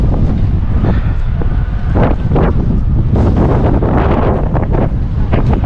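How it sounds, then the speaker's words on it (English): Strong wind roars and buffets close against the microphone in Victoria, Canada, a steady rushing noise with gusty surges throughout. "It is windy"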